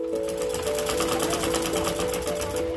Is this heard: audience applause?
no